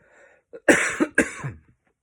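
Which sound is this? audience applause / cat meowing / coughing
coughing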